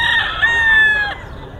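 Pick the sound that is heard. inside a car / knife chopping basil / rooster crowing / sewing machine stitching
rooster crowing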